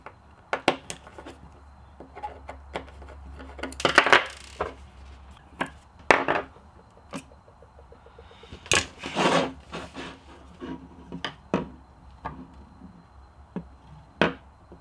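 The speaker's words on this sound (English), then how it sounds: "Simply undo the 6 screws." Screws being undone from the casing of a hard disk, heard as scattered, close clicks and scraping taps with irregular pauses over about fifteen seconds, against a quiet room.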